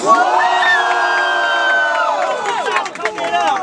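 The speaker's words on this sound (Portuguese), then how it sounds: "Barulhos, barulhos pra quem gostou das rimas do Brenos" A crowd at a Brazilian freestyle rap battle final erupts in loud cheering and high-pitched shouting, voices overlapping in a sustained roar with whoops rising and falling.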